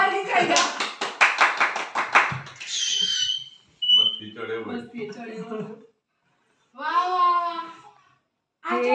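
A few people clap together in a quick burst of about a dozen sharp claps at home, followed by someone speaking and adults talking and cheering.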